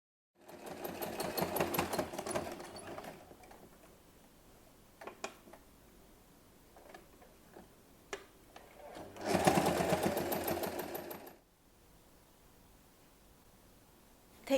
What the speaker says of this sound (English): Fold the long edges of the strap toward the center, then fold again, and top stitch along both long edges.